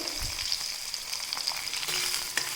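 Onions frying in a pan over a medium flame, a brief steady crackling sizzle with a few light pops, no voices.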